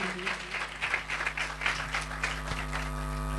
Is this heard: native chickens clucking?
no